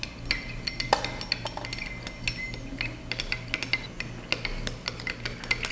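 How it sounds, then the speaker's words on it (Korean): A utensil stirs a homemade perfume mixture in a glass container, giving a steady run of light clinks and scraping taps against the glass, close and fairly loud, with no talking. "이제 이거를 30초가량 저어줍니다"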